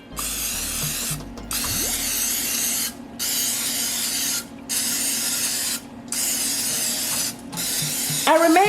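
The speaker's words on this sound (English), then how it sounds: "So you want to give it a good thorough spray" Cooking oil spray hisses onto a pan for Nigerian moi moi bean pudding in several long close bursts separated by short gaps, ending with a brief clatter.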